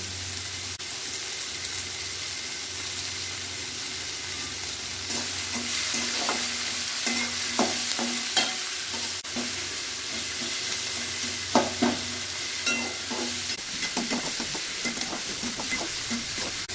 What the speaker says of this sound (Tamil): தேவையான அளவு உப்பு, ஒரு கொத்து கறிவேப்பிலை சேர்த்து வதக்கவும்.